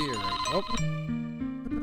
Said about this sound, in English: It's a telephone. Oh, take the phone.